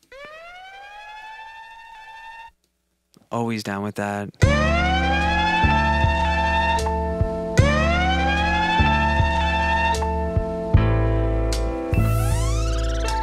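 Rising and falling siren wails repeat rhythmically over heavy electronic bass and drums, with a brief spoken remark early on.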